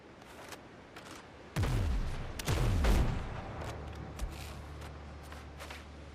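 Heavy black-powder shots in the pirate game Windrose, two or three loud booming reports close together with low, rolling echoes, then a fainter thud and quieter ambience.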